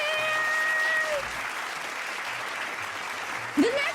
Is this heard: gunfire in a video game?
no